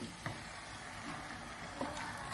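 Chicken curry sizzles faintly in a pan while being stirred, a steady low frying hiss with a few soft scraping strokes.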